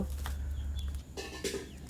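Chickens cluck in a rural village yard during home cooking, with short clucks rising over a steady low rumble near the end.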